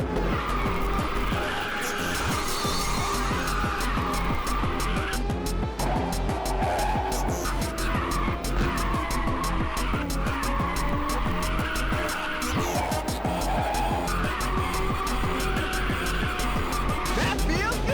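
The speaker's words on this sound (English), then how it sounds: "Did I drift for like 30 seconds there or what?" Race car in the PSP game Ridge Racer 2 holding a long drift, tires squealing continuously over a loud revving engine, steady and close for the whole stretch.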